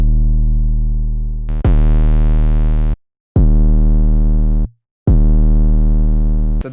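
An 808 bass sample from Sinister Sounds, heavily distorted, plays as three loud, buzzing, harmonic-rich low notes. Each sustains for over a second with sharp cuts of silence between them, and no one speaks.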